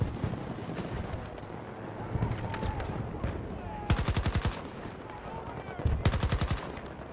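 An AK assault rifle is tap-fired in the shooter game Battlefield 2042, with two short rapid bursts of loud cracks over windy battlefield ambience and scattered distant fire.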